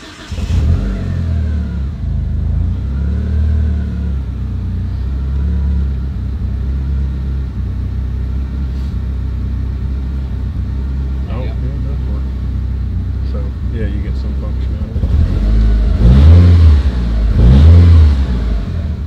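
A car engine with its wideband sensor unplugged idles roughly and stumbles, with loud low rumbling and uneven surges, including two stronger revs near the end, while people talk nearby.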